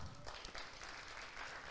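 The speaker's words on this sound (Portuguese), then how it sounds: "Você pode aplaudir o Senhor?" Applause from a church congregation during a Portuguese-language sermon, a dense steady wash of clapping filling the room throughout, with some faint voices mixed in.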